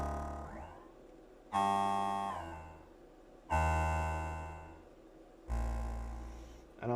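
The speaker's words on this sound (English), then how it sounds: "You can see you get like synth sounds like this." Korg Volca Sample sampler playing synth sounds: three sustained, harmonically rich notes that each strike sharply and slowly decay, spaced about two seconds apart, heard alone.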